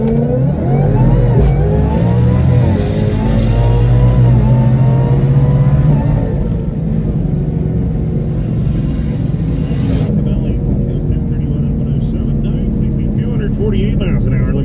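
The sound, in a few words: drag race car accelerating in a shootout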